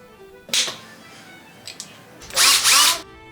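A power drill whirs in two bursts, a short one and then a longer, louder one, with quiet pauses and faint clicks between.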